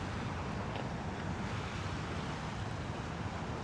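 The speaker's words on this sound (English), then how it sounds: "Got a nice wind coming up." Steady wind blows across the microphone at a Brooklyn waterfront, a continuous rushing roar with no clear breaks or voices.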